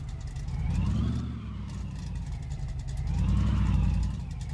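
A car engine in the My Garage video game whirs steadily as the car reverses, the pitch rising and falling in two slow swells with a continuous low rumble, close and fairly loud.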